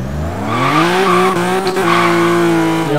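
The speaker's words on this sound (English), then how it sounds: "this is what full throttle is like if you just leave it on full throttle" A 700 hp turbocharged 1995 BMW E34 M5 with an S38 engine launches at full throttle in Forza Horizon 3, its engine roaring loud and steady as the tires squeal and spin continuously.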